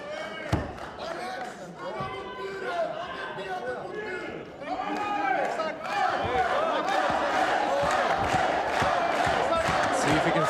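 A crowd at an MMA fight in Västerås roars and cheers in a rising, sustained wall of noise, with a thud or slam early on and people talking throughout.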